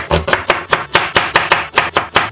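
Knife trimming the corners of carrot, radish and onion pieces on a cutting board, about a dozen crisp, evenly spaced chopping strokes close up, with no talk.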